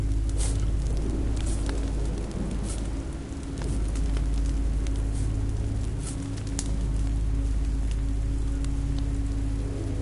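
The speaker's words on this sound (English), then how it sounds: "This rain will turn to sleet." Steady rain falls in a video game setting, a dense, continuous patter of drops on surfaces with a low rumbling bed, constant and fairly loud throughout with no voices.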